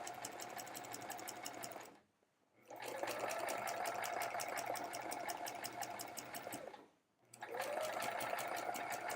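A sewing machine quilts with metallic thread in two long, fast runs of rapid, even needle rattling, stopping briefly in between, close and steady.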